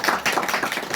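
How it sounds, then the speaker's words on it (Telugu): A congregation at a Telugu Christian sermon claps loudly together, a burst of quick overlapping claps filling the short moment with no talk. "గట్టిగా ఒకసారి చప్పట్లు కొట్టండి"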